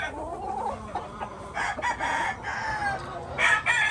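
Rooster crowing nearby in a series of loud, strained calls, with clucking fowl around it and faint voices in the background.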